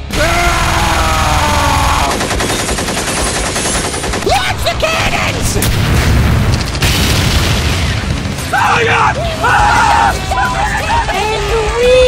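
Cannons boom and blast repeatedly in a chaotic Mario animation, loud overlapping explosions and rapid gunfire-like bursts with shouting voices and cartoon effects mixed in.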